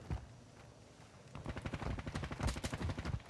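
Gunfire in a shooter video game: a rapid string of sharp, punchy shots that speeds into a dense burst partway through, loud and close, with no talking over it.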